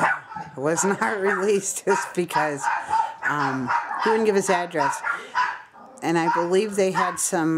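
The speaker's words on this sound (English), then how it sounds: "sorry for my dogs." Dogs bark intermittently in the background of a home, mostly buried under continuous close speech from someone talking throughout.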